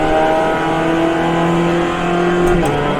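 In iRacing, a GMX5 race car engine screams loud and close, climbing steadily in pitch as it accelerates, then dips briefly at a gear change before pulling on again.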